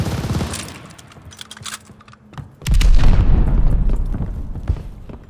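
A frag grenade explodes in the Call of Duty: Vanguard video game, a heavy, loud boom that hits midway and rumbles on with debris and gunfire, after a stretch of scattered shots and game noise.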